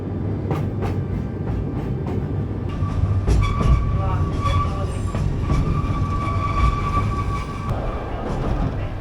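A train on the steep Oigawa railway rolls along with a steady rumble, light wheel clatter and a thin squeal from the wheels that comes and goes, heard from on board with no talk.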